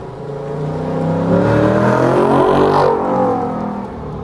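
A modified Ford Mustang engine revs hard outside, climbing to a loud, raspy roar, holding, then easing off as the exhaust burbles down, close and with no talk over it.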